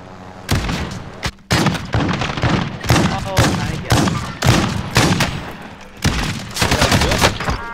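Shotgun gunfire in a video game, heard as a rapid string of loud, close blasts packed one after another for several seconds, with only brief gaps between bursts.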